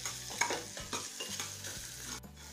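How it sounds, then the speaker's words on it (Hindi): Spice masala for a homestyle potato and cabbage sabzi is stirred and lightly roasted in a pan, with a continuous close sizzle and repeated scraping strokes of the spoon, no speech. "और तब मसाला को भी हल्का भून लेते हैं।"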